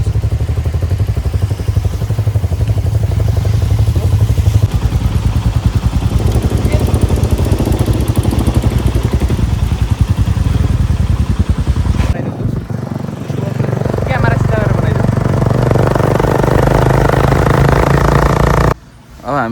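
A motorcycle with clutch and gearbox runs loud and close on a ride near Muktinath, a steady rough engine drone that briefly drops away twice before resuming.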